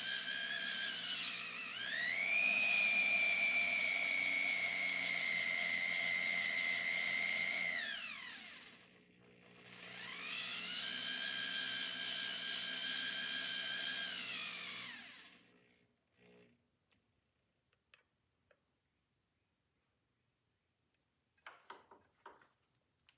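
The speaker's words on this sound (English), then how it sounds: "I'm just going to sand that off." A power sander works off a worn ratchet pawl on a key-wind Edison Gem phonograph, two loud sustained whining runs separated by a short dip as the motor winds down, then near silence broken by a few faint clicks.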